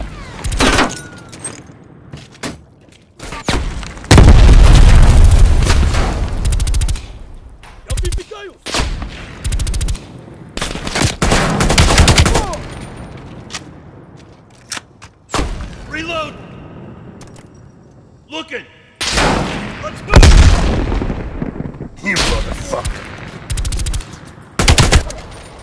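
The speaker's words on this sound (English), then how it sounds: "I need suppressing fire!" Call of Duty Black Ops Cold War combat erupts in heavy bursts of automatic gunfire and single shots, loud and close, with booming impacts and soldiers shouting over the fighting.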